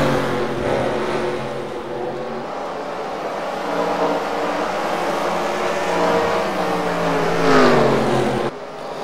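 Stock cars racing at South Boston in NASCAR Racing 2003 produce a steady, loud engine drone, with engines revving and rising in pitch as a car sweeps past near the end.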